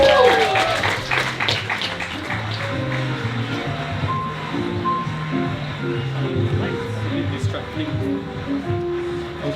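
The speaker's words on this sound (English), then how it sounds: "A round of applause for Aaron Lim." A comedy-night crowd applauds comedian Aaron Lim, the clapping loudest at first and then thinning to a softer patter under voices.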